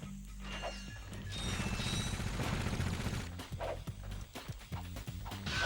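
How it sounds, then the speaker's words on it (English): Bomb glove explosions in the Ratchet and Clank video game: a run of crashing blasts and bursts over game music and effects, loud and close. "Bomb glove."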